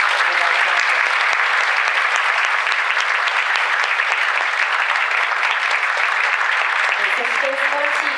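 Warm applause fills a hall for the panelists at the close of a panel discussion with Dr. Lassina Zerbo, a thick, continuous clatter of many hands at steady volume, with a voice beginning faintly just before it ends.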